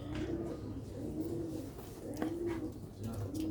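Sialkoti black-faced pigeons cooing, soft repeated low coos in a slow rhythm of about three calls, close by over a faint background hum.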